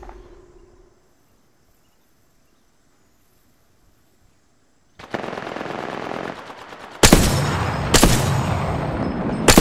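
Automatic weapon fire in Apex Legends erupts after a few seconds of near silence, first a sustained rattling burst and then louder, denser volleys with sharp cracks, close and dominant, with no talk over it.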